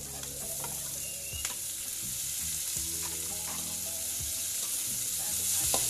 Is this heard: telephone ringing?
no